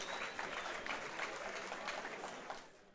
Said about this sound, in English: Ladies and gentlemen, let's have a nice round of applause.